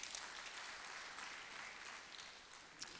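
Applause from an audience of ministry of commerce staff at a ceremony honouring their work, a steady dense patter of many hands, moderately distant and even throughout with no voices over it.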